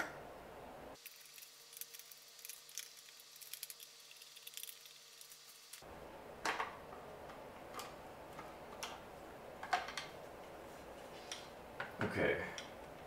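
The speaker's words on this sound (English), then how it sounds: "remove the back cover here. It just is held on with Phillips screws" Phillips screws being backed out of the rear cover of a Midland WR-100 weather alert radio: faint, close, small ticking and clicking sounds, sparse and irregular, with a brief clatter of handling near the end.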